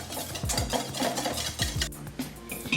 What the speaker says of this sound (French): Je mélange et je vais pouvoir monter ma crème liquide.